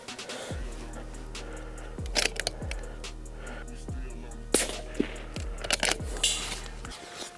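A precision rifle fired from the prone position during a practical shooting drill sends out sharp, loud reports about every second, each one followed by a short ringing decay, with clinking and handling noises between shots.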